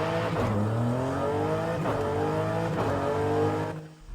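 2023 BMW M2 engine in Forza Horizon 5 revving hard through several rising pitch sweeps as gears climb, loud and close, ending with a brief drop-off near the end.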